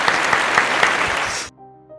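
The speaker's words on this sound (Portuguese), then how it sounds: "Salva de palmas para a pergunta!" Audience applause fills a corporate training talk on measuring customer satisfaction, a dense burst of many hands clapping for about a second and a half before cutting off abruptly.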